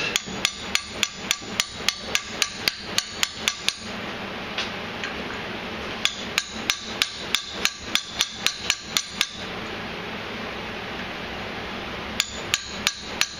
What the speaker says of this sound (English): I need to tap on that side a little bit to straighten it out